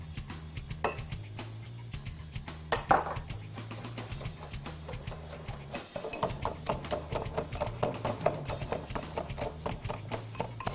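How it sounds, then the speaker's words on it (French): Sugar being whisked into egg yolks in a bowl for a chocolate Yule log: a steady, rapid run of light clicks and taps, close by and continuous, with no talk over it. "Maintenant, on met le sucre dans les jaunes et on le fouette jusqu'à ce que le mélange blanchisse."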